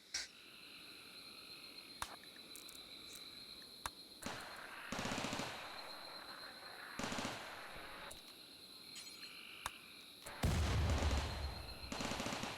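Gunfire in the game Rimworld comes as sharp isolated shots and short rattling bursts, some louder than others, over a low steady background hum.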